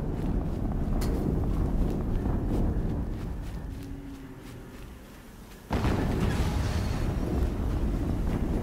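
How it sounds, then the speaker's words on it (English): Rumbling in-game explosion from Horizon Zero Dawn's Makers End level, a sustained broadband roar that eases off and then bursts back loudly with a sudden sharp onset, no talk. "Another explosion."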